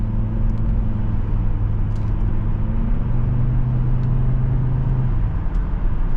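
A 2005 Volvo XC70 2.5T AWD engine pulls steadily under acceleration, a constant low drone with a rising and shifting tone heard from inside the cabin, with road noise beneath it and no voices.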